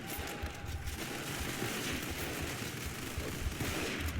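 Video game gunfire, rapid bursts of shots from an SMG-type weapon mixed with distant battle noise, dense and continuous over the whole stretch.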